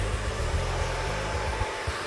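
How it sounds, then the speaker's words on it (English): A Solano ionic hair dryer, the hottest in the Solano line, blows hair straight with a constant loud whooshing airflow and slight fluctuations as it moves around the head, with no speech. "even though this dryer is the hottest of all Solano dryers, it is ionic, therefore it's healthy heat."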